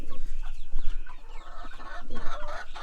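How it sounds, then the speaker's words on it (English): Farm chickens clucking nearby in a coop, a busy overlapping chorus of short clucks and squawks in an uneven rhythm, loud and close, with no talking. "And we do have a chicken over here because she was getting pecked on."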